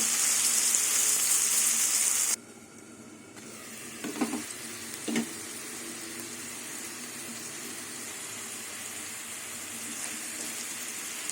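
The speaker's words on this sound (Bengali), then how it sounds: "এবার আলুটা ঢেকে ঢেকে ভেজে নেবো" Steady sizzle of potatoes frying in a covered pan fills the clip, briefly dropping quieter before settling into a constant hiss with a couple of soft clinks, no voices.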